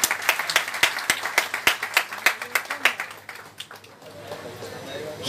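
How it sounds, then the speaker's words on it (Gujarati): An audience at a farewell ceremony claps in a quick, steady run of sharp hand claps. The clapping is close and loud at first, then thins out and fades into a softer room murmur. "તમારી તાળીઓનો કરતલ ધ્વનિ."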